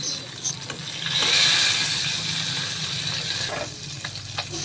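Steady crackling sizzle of tilapia fish steaks frying in hot oil, close by, with a brief louder burst of hissing partway through.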